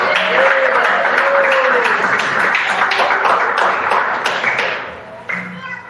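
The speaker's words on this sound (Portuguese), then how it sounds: "Vamos receber o pastor Edson com palmas" A church congregation claps together in applause, a dense steady patter of many hands filling the space, with voices and murmurs mixed in before the clapping thins out near the end.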